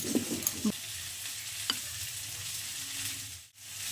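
Potatoes fry in a pan with a soft, even sizzle. A few small clicks come early, and the hiss briefly drops out near the end.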